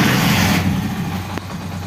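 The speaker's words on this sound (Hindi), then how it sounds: "अब मैं बाइक को करता हूँ स्टार्ट" A motorcycle engine idles steadily after starting on a bike being run without a battery, a low continuous rumble close by with no talk.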